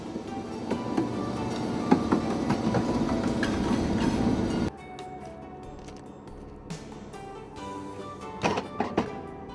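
A modern Vossloh locomotive hauling wagons on a rail line rumbles with clanking and thumping wagon noise, dropping to quieter rolling with scattered clunks and knocks after a sudden cut midway.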